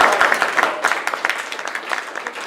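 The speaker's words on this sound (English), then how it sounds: "Take a breath and give yourself a big round of applause." A small group claps and applauds together, with quick, uneven hand claps that continue for a couple of seconds and then taper slightly.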